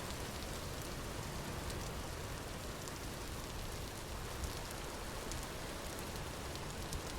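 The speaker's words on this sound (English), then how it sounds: "A lot of rain in this episode and last episode, it seems like." Steady rainfall in the video game Vintage Story, a soft, even hiss of drops pattering continuously without letup at low volume, with no voices.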